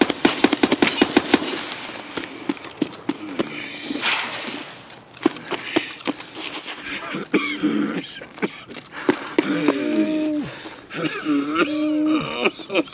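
Gunfire in the shooter game Escape From Tarkov: a loud rapid burst of shots opens, followed by scattered sharp reports mixed with in-game sounds while someone talks throughout.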